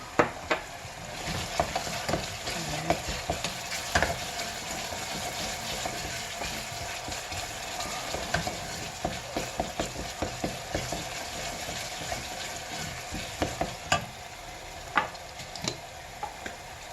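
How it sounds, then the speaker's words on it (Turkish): Pepper paste and hot pepper sautéed in a pan, a steady close sizzle of frying with repeated scraping and clicking of a utensil stirring, no talk. "Biber salçası. Hafif onunla da kavuracağım. Biraz acı biber ekledim."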